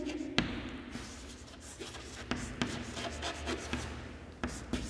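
Chalk or marker scratches and taps on a classroom board in short, irregular strokes, fairly quiet and close by, with no talking.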